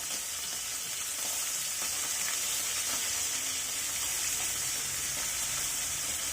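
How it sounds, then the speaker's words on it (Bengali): Tangra fish fry in a pan, a steady crackling sizzle that runs without a break. Faint scraping and stirring taps come through as the pieces are turned over, and no one speaks. "মাছগুলোর এক সাইড ফ্রাই করা হয়ে গেছে, এখন আমি এগুলোকে উল্টে দিচ্ছি।"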